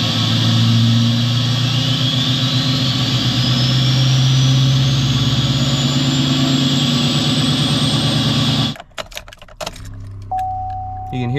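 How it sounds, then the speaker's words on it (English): The air compressor for a Denali pickup's air horns runs over an idling L5P Duramax diesel, its whine climbing steadily in pitch. Then everything cuts off abruptly, leaving scattered clicks and a faint tone. "You can hear the air compressor for the air horns kicking on."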